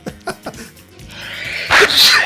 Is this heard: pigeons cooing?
no